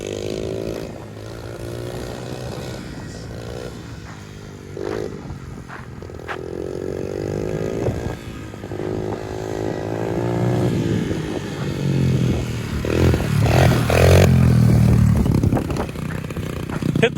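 A pit bike engine revs as it is ridden, its droning note rising and falling through the gears and growing louder and rougher toward the end, with occasional voices mixed in.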